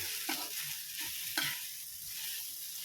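Chicken is stirred in a hot pan, with a soft sizzling hiss and a few scraping clicks of the utensil, fairly faint and close, without talk.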